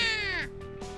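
A black cat meows in the visual novel game The Fruit of Grisaia, a single drawn-out, falling cry heard clearly with no talk over it.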